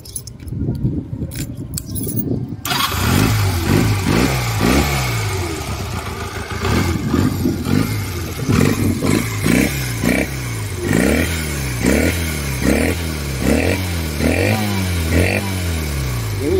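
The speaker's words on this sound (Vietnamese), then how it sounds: "Rồi để mình nổ cái máy lên luôn cho anh em, test cái máy sơ sơ cho anh em nghe ha." Keys jingle briefly, then the engine of a Japanese-import Honda Rebel 125 (JC26) motorcycle starts and runs, revving up and down repeatedly with a steady throbbing rumble.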